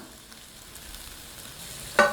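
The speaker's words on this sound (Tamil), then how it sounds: "இதில் நறுக்கி வச்சுருக்கிற ரொட்டி துண்டுகளை பொறிச்சு எடுத்துக்கலாம்" Bread pieces for bread halwa sizzle steadily as they fry in ghee, a soft continuous crackle ending in one brief sharp clink.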